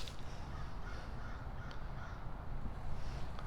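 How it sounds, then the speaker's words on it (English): A crow caws several times in the background, faint harsh calls spaced irregularly over a low, steady outdoor rumble. "That bird you hear in the background, he was in here."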